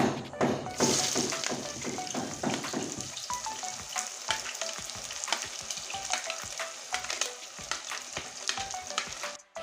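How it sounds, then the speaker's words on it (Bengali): Chopped onion dropped into hot oil after tempering spices, for a masoor dal tadka with egg, sizzling and frying loudly at first, then settling to a steady crackle with repeated stirring knocks of a spoon against the pan, no talk. "এখন আমি এই পেঁয়াজ কুচি দিয়ে দিচ্ছি"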